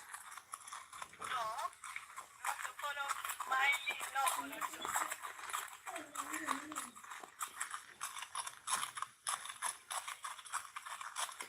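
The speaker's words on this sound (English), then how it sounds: "Riding on horses in the village" Horses walking through a village, hooves clip-clopping in a steady rhythm beneath people talking over them throughout.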